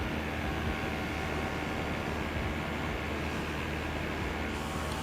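Simulated Airbus A320 jet engines in Microsoft Flight Simulator give off a dense, steady broadband roar and whine, loud and unbroken throughout with no talk over it.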